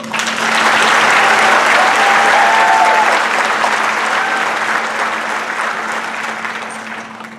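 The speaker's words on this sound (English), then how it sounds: "Again, applause for you folks." A high school graduation crowd at Mountain Education Charter High School in 2018 gives loud, sustained applause for high-achieving students, with brief whoops riding over the clapping before it gradually tapers off.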